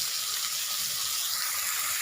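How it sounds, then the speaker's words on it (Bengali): Vegetables sizzle steadily in a hot pan while being stirred with turmeric powder, a close, even frying hiss with faint scraping and no voices. "হলুদটা দিয়ে নাড়িয়ে চাড়িয়ে নেব আরও একবার।"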